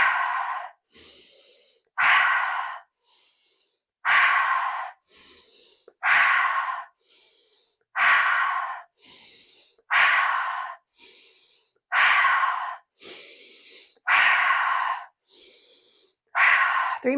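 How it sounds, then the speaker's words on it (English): Deep rhythmic breaths in a yoga-style breathing exercise, with about eight strong, airy inhale–exhale cycles roughly every two seconds. Each long forceful breath is followed by a shorter, softer one, and the breathing is close and clear with no talking. "We're going to inhale here. Exhale, flick them away."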